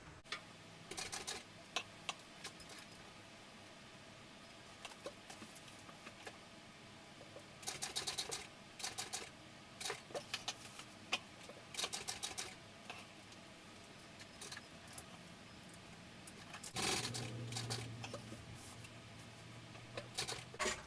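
A sewing machine stitches a sling's D-ring section in short bursts of rapid mechanical ticking, separated by quiet pauses, with a longer, louder run near the end.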